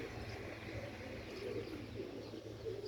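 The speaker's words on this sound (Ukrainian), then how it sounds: "Мої голубі." Pigeons of an old breed, white, cheeky and whiskered, coo softly and continuously, a low steady murmur sitting close by with faint chirps above it.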